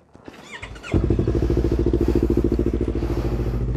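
A Yamaha YZF-R25 motorcycle engine warming up, starting after a few clunks and settling into a loud, close, steady rhythmic idle.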